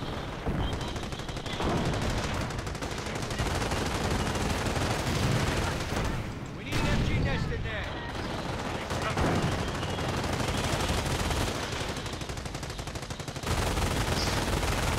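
Heavy gunfire and machine-gun bursts pound a base in the World War II strategy game Company of Heroes, loud and nearly continuous for the whole stretch with brief lulls, in a dense battle mix.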